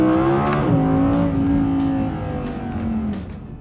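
A 2022 Audi R8 Coupe 5.2 FSI Performance RWD with S tronic gearbox revs hard above 5,000 rpm, its high-pitched engine howl climbing and holding loud and close, then easing slightly toward the end, with no talking.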